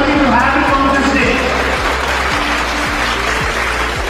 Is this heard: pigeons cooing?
no